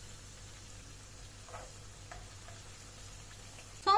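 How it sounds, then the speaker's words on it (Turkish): Potatoes fry in hot oil, giving off a faint, steady sizzle with a few soft clicks and stirring taps, then a brief louder clatter at the end. "Sonra kalan patateslerimi de aynı şekilde kızartıyorum."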